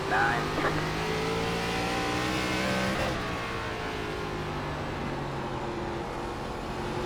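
ARCA stock cars racing in the iRacing video game at Southern National, a sustained engine drone with rising and falling pitch as cars rev and pass, a voice talking over it.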